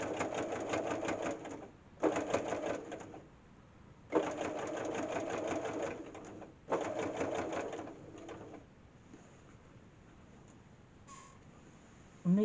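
A sewing machine stitches binding onto a quilt in several bursts of rapid, steady needle hammering, each a second or two long, with brief pauses between runs and a small click near the end.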